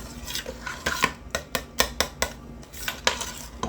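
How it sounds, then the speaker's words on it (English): A spoon clinks and scrapes around a pot as a mixture is stirred quickly, with sharp metallic taps in an uneven rhythm, close and clear, with no talking. "I'm just going to give it another quick stir."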